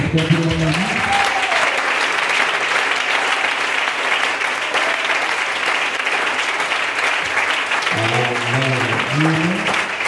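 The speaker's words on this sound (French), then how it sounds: "j'aimerais des acclamations plus nourries que ça" Sustained applause fills the whole stretch, loud and steady, with a voice speaking over it at the start and again near the end.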